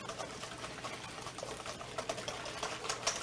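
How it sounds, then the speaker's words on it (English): Eggs and sugar whisked together for creaming, sometimes over a double boiler, in a chef's kitchen, giving a quick, steady, close rhythmic clicking and rattling of the whisk that carries on without pause. "you're gonna whisk your sugar and your eggs together until they start going pale"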